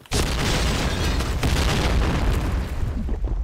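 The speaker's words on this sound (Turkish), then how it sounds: "Uzun uzun bomba atıyorlar." Heavy bomb blasts in a video game boom loudly one after another, with a sharp burst near the start and another around the middle, over a constant rumbling roar of combat.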